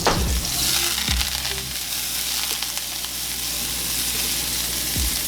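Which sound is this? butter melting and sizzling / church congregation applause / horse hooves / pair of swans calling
butter melting and sizzling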